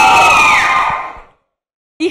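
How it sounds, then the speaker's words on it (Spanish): A crowd of people shouts and cheers loudly at an internet day event, a dense roar of voices that fades out over about a second, followed by silence and a brief renewed burst. "vamos a gritar"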